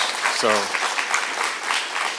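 A meeting audience gives a short round of applause, a brief burst of clapping from a modest crowd with a voice cutting in near the start.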